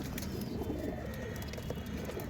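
Pigeons coo softly nearby in a low, continuous burbling murmur, with no voices present.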